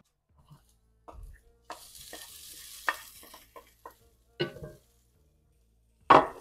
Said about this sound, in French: Je mélange tout ça.